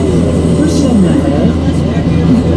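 Train at Grindelwald station in Switzerland, a steady low rumble of rolling stock that runs continuously throughout, with a person speaking over it.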